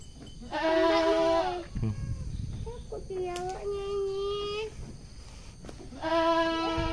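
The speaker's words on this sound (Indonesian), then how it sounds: "Kambingnya guys." A goat bleats loudly and close by several times, long wavering cries with short pauses between them, while people talk in the background outdoors.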